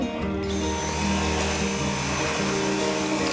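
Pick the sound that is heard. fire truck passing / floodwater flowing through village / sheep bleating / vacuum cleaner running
vacuum cleaner running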